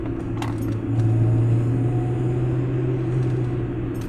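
VW car with a Digifast performance chip pulling hard in third gear, heard from inside: a steady, loud low engine drone and road rumble with a faint rising tone and small rattles, no talk.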